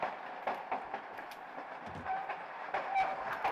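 A moving train rolls along its rails in the Fallout 4 video game, giving a continuous rumbling, rattling clatter with rhythmic clicks over the track joints, steady and fairly loud with no voices.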